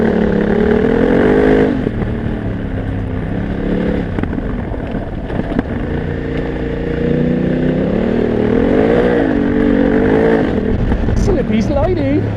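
BMW F900GS motorcycle rides off-road on a leafy trail, its engine droning loudly and continuously with rising and falling revs, close up and steady throughout.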